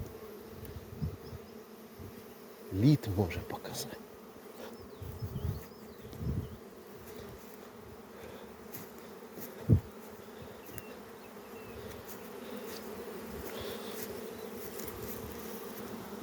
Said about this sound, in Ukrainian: Це все робоча бджола.